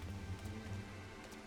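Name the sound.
rain in the video game Final Fantasy XIV: Heavensward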